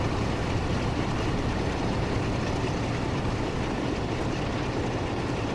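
A diesel railtour train in Train Sim World 3 at Peak Forest rumbles past as a steady, loud, broadband roar that holds unbroken throughout, with no voices over it.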